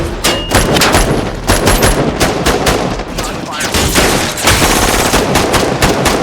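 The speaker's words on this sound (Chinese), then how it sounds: "然后架好步枪，对赶来的警察进行火力压制" Rifles blaze at arriving police during a heist movie's armored-truck robbery, a loud, dense barrage of rapid overlapping shots with thumps and rattling, continuous throughout.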